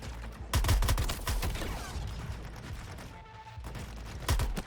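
Rapid bursts of gunfire in the superhero video game Suicide Squad, loud and close, with dense overlapping shots, a brief lull near the end, then a final loud volley.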